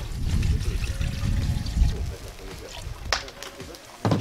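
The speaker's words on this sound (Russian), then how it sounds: "укладываем все в афганский казан" Water is poured into an Afghan kazan cauldron holding chicken for noodles, cooked outdoors over firewood, making a steady, rushing splash for several seconds, with a couple of sharp clinks near the end.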